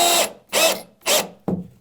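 A power drill drives screws into wooden wall studs while toe kick framing for base cabinets is built: three short, loud whirring bursts in steady rhythm, then a brief thunk, with no talking.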